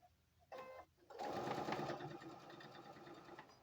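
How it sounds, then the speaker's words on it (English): Sewing machine chain stitching quilt blocks in a row, a short start-stop whir and then a continuous close, quiet mechanical running hum. "We are just going to continue to stitch our blocks."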